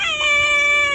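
A female cat gives one loud, drawn-out meow, close and clear, lasting about a second with no other sounds around it.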